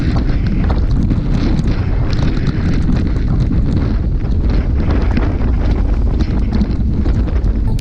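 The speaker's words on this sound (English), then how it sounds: "You hear the wind." Heavy wind roaring across the microphone of a cyclist on a group ride, a loud, constant, dense rush from start to end with no talk.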